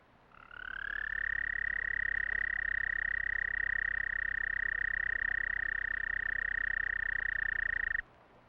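Frogs call in spring on a river floodplain, one loud, unbroken high trill rising from silence, holding steady for about seven seconds, then cutting off abruptly.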